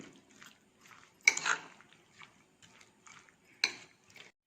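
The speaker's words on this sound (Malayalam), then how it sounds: "ഹണി ചേർത്ത ശേഷം നല്ലതായിട്ട് മിക്സ് ചെയ്യാം." Fruit salad being stirred with honey in a bowl, soft scraping and clinking of a spoon against the dish in a few scattered, quiet strokes with two sharper knocks.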